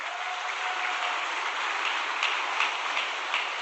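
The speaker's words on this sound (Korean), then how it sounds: "영상에 나와서 박수 한번 쳐드립시다." Church congregation clapping together, a steady even patter of hands for a few seconds with a few sharper claps standing out, no voices over it.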